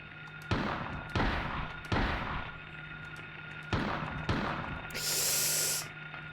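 Gunshots from a handgun in the video game Silent Hill crack out as five sharp, separate reports at irregular intervals over a low ambient hum, followed by a brief hissing burst.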